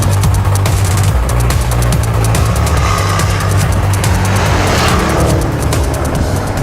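A supercharged 5-litre V8 Range Rover Sport accelerates hard, its engine roaring loud and steady from inside the cabin with a continuous deep drone and rising revs throughout.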